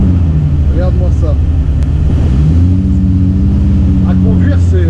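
Batmobile replica car rumbling through a town street near a casino square, a steady low engine drone that rises in pitch partway through, with people talking over it.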